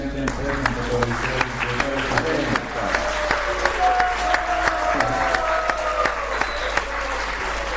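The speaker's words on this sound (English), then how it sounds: "Let's have a round of applause for all the devotees." A crowd at an outdoor Ratha Yatra festival applauds devotees with sustained clapping, while sharp hand claps stand out near the microphone amid background chatter and a low hum.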